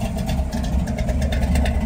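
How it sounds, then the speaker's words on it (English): A 1967 Chevrolet Camaro V8 engine idles steadily with a deep, low rumble, running continuously and close by with no voices. "The car sounds really, really nice. It runs really nice."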